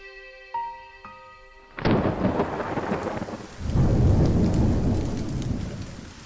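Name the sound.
thunderstorm with thunder and rain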